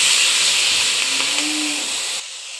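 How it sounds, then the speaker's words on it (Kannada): Tomato, mint and coriander frying in a pan make a steady, hissing sizzle that holds evenly, then drops abruptly to a quieter hiss near the end. "ಸೊ ಈ ಟೈಮಲ್ಲಿ ಈಗ ಇದನ್ನು ಫ್ರೈ ಮಾಡ್ಕೊತೀನಿ."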